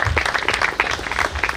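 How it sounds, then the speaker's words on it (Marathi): Wedding guests applaud the couple at an outdoor evening reception, a dense crowd of hands clapping loudly and continuously for a brief stretch. "या दोघाही उभयता जोड्यासाठी जोरदार टाळ्या वाजू"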